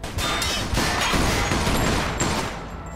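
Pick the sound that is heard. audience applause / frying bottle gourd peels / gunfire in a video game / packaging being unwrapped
gunfire in a video game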